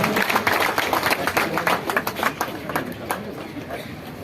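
Applause breaks out at an outdoor tehsil campus ceremony marking Dr. Babasaheb Ambedkar's birth anniversary. The clapping starts strong and crisp, then gradually thins and fades over about four seconds.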